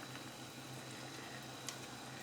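Pot of water with golden syrup simmering for sourdough bagels, giving a faint, steady bubbling hiss with a low hum under it and one small clink near the end.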